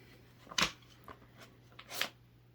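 Tarot cards are shuffled quietly in a few soft, crisp riffles and taps, two brighter bursts standing out against a faint steady background hum, with no talk over them.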